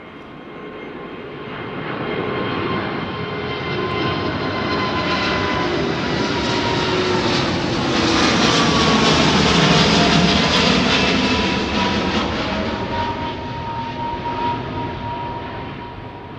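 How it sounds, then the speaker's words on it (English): An Airbus A330 departs Heathrow's runway 09R and climbs directly overhead, its engines a loud, sustained roar with whining tones that builds to a peak midway and then slowly fades. "what's this 330 coming out?"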